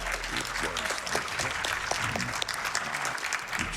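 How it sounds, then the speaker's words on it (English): Steady, dense applause from a crowd at a speedrunning charity event, continuous clapping throughout at an even, loud level. "Please clap for yourselves."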